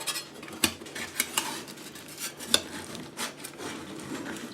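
A big spatula scrapes and digs baked mac and cheese stuck to the bottom of a pan, with a few sharp metallic clinks and scrapes over a low, steady background.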